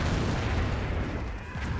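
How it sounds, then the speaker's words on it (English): Calliope rocket barrage in Company of Heroes, a dense continuous rumble of rocket impacts and blasts that stays loud throughout the short stretch, fading slightly at the end. "Another Calliope rocket barrage getting some good AoE damage"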